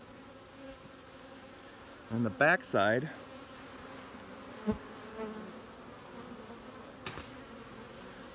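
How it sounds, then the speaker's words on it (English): Honeybees buzzing around a hive in a temporary home during an inspection, a soft, steady hum underneath with a brief spoken phrase partway through. "I'm just gently blowing on these bees to make them move."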